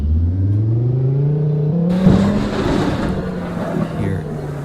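A car spawns in the Tornado Siren Map video game, its engine droning with a rising tone that climbs and holds, then a burst of wind-like hiss joins it, loud and steady throughout.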